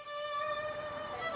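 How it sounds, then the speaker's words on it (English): Insects buzz in a faint, thin, continuous drone with a slightly pulsing upper tone, steady and distant, with no other sounds. "The sound of cicadas rings in our ears."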